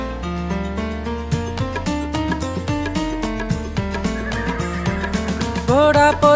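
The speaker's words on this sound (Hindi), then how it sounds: "दौड़ा दौड़ा घोड़ा दौड़ा दुम उठा के दौड़ा" A horse neighs as a sound effect in a Hindi nursery rhyme about a running horse, a short whinny near the end riding over a lively, loud instrumental backing track.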